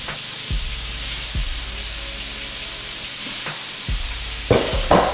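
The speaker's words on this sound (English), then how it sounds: "as you can hear, you hear that little sizzle" Food laid into a hot pan sizzles steadily with a broad hiss, punctuated by a few soft clanks and scrapes of stirring, close and fairly loud.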